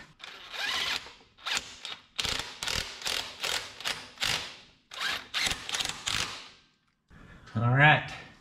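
A hand ratchet works on bolts of a 1961 Chevy wagon, sounding as a string of quick, loud clicking bursts with short pauses, close by. A voice comes in briefly at the end.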